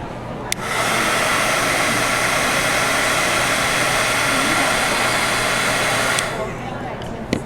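A heat tool dries freshly stamped ink at a craft demo. It blows one steady, loud whoosh for about six seconds, with a click as it starts and stops.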